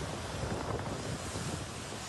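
The Godavari river in monsoon flood, swollen by heavy water releases from upstream dams, makes a loud, steady rushing roar with no break and no voices.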